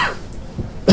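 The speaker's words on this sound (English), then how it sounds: "Hope the coughing doesn't make it difficult." A single short cough at close range, near the end, following a stretch of quiet breathing and faint rustle.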